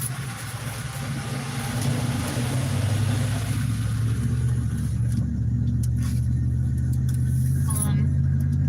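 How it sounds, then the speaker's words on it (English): A truck engine accelerating while driving across Mexico, a low steady rumble that builds gradually in strength from inside the cab, with some faint voices and small clicks over it. "I love the way this truck sounds."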